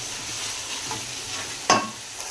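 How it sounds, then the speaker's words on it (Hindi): Garlic and ginger frying in a pan for chicken karahi, a steady close sizzle broken by one sharp hiss and scrape of stirring partway through, with no talking. "लहसुन और अदरक डाल देंगे। इसको भी हम 2 मिनट तक भूनेंगे।"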